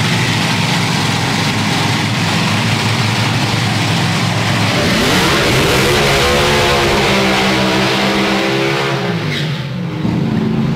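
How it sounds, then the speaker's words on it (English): Two Top Methanol drag racing cars doing side-by-side burnouts at Santa Pod, a loud sustained engine roar with rising and falling revs and tyre scream, close and continuous for the whole stretch. "some of Europe's best side-by-side burnouts as well"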